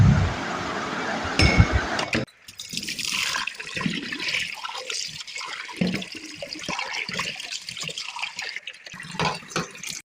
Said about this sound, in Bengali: কাপগুলোকে আমি এখন ধুয়ে নিব।